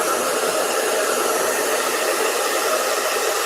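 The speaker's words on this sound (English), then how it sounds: "Oh, that hair dryer." A hair dryer blows continuously at close range, a loud, even, airy whoosh with a high whine that holds steady throughout with no pauses or voices.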